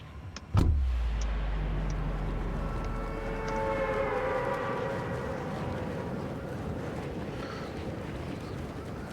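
The Fortnite battle bus ride opens with a sharp thud, then a loud low engine drone and a rising whine that settle into a steady hum, with a few faint clicks over the top.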